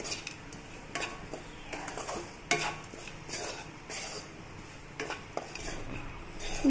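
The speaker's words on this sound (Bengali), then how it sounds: "বানিয়ে রাখা ভাতটা দিয়ে দেবো। মশলার সঙ্গে ভালো করে মিশিয়ে নেব।" Cooked rice being stirred into spices in a metal pan for South Indian puliyogare, with irregular scraping clinks of a spoon against the pan over a faint sizzle, moderately quiet.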